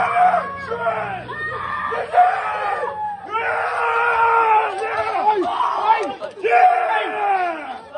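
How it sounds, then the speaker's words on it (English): Children shriek and scream in bursts at a hotel in Phuket during a violent daytime altercation, loud and close, with excited overlapping voices rising and falling across the scene. "The kids are screaming."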